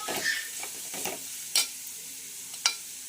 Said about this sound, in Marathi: यामध्ये मी ही पपईचा खीस टाकून घेतलेला आहे याला छानपैकी असं एक वेळेस आपल्याला फ्राय करून घ्यायचं आहे